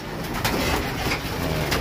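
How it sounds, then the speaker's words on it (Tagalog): Racing pigeons cooing in a loft in Cavite as the flock returns from a race toss, soft low coos repeating steadily against a faint outdoor background, with no talk. "Halos pa kompleto ng mga ibon natin guys."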